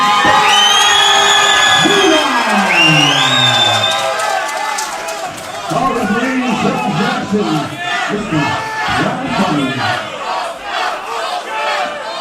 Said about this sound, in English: he's got a lot of people shouting for him tonight